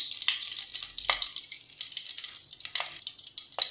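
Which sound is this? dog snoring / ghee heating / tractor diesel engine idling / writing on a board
ghee heating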